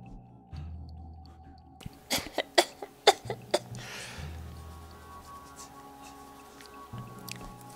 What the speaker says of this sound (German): So, ich musste schnell husten.